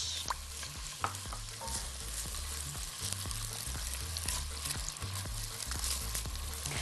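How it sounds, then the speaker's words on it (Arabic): Onions sizzling and frying in a hot pot, with steady crackle and repeated stirring scrapes throughout, close and continuous with no talking. "يلا الحلة سخنت كويس قوي، هننزل بالبصل"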